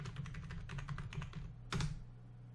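A computer keyboard clicks in a quick run of light, rapid keystrokes as a username is typed, ending with one firmer key press, close and clear over a low hum.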